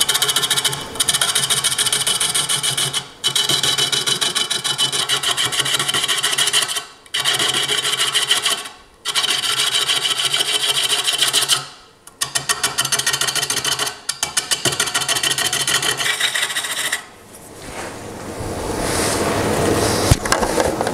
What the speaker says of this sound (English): now I'm going to take an 1/8 inch parting tool and define this area right in here.